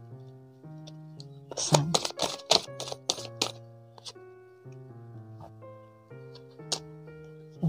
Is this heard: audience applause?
no